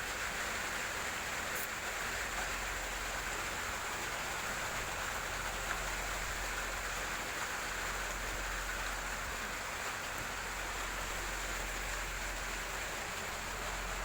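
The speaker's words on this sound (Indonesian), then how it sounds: "Cuacanya juga hujan." Steady rain falls throughout, a dense even hiss of drops on surfaces that stays constant from start to finish with no voices.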